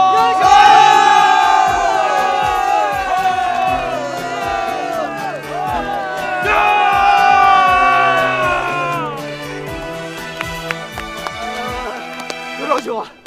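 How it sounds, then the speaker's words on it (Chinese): A crowd cheers and whoops for the heroes at an event set in Tang-dynasty times, with loud layered shouting voices and horse hoofbeats clopping underneath, rising and falling in two big swells. "今天观众为你们欢呼"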